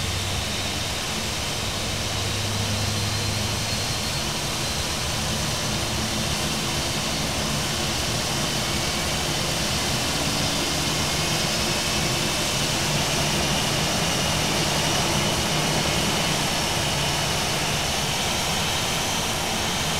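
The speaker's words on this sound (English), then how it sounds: "the engine is beginning to spool up" Simulated Airbus A320 jet engine spooling up during start, a continuous broadband roar with a low hum that thickens steadily over twenty seconds, no voices present.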